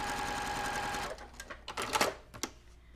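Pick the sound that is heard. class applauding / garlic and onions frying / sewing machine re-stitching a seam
sewing machine re-stitching a seam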